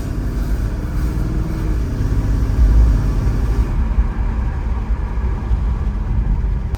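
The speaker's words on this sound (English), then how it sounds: "Here, I'll hit the gas." A 1100 hp Cadillac CTS-V with a fuel line issue drives along, its engine droning loud and steady as the throttle opens, a deep low rumble swelling briefly midway and holding near and continuous throughout.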